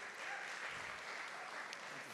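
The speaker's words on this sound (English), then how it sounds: "A round of applause for his team." An indoor audience at a university awards night applauds the dining services team, producing a continuous, even roll of clapping at moderate volume with no talk over it.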